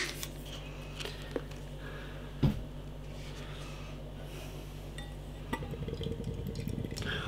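Coffee and chocolate stout from Arbor Ales is poured from a can into a glass: a sharp clink of metal on glass, then a growing glugging, fizzing pour near the end, fairly quiet and close.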